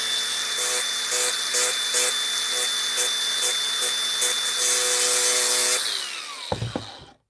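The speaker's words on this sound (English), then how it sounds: "Make sure we grind the right bit on there." A power grinder works a part for an Arrma RC car motor mod with a loud, steady high whine and rhythmic pulses as it bites the metal, then spins down and ends in a few clunks.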